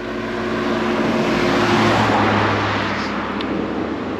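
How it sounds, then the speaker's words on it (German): Oncoming cars sweep past on a road beside a group marching on foot, a continuous loud rushing of tyres and engines that swells and fades with a low engine drone underneath. "Es kommen auch die ganze Zeit Autos entgegen."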